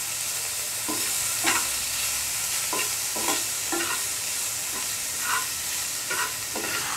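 Chicken frying in a pan with chili powder and ginger-garlic paste, a steady sizzle broken by repeated scraping stirs of a spatula at a regular rhythm, close and with no talking.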